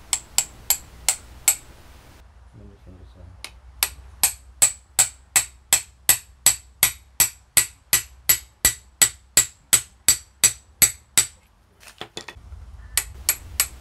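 Hammer blows driving new bushes onto a Citroen 2CV kingpin hub, a long run of sharp, evenly spaced metallic strikes close up, with a couple of short pauses and no talk.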